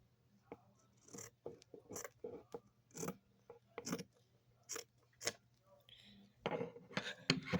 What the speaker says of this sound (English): you just fold the unwanted portion and you cut that portion off